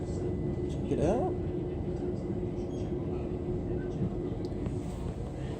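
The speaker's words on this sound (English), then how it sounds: "Freight train." A freight train passes at a London-area rail station, a steady broadband rumble of wagons rolling by with a brief higher squeal near the start, continuous throughout.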